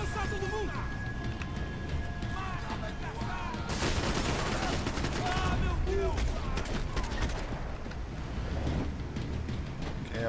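Gunfire in the video game Max Payne 3 plays as a continuous barrage of shots and impacts, with a sharp burst near the middle, over game sounds, while someone talks throughout.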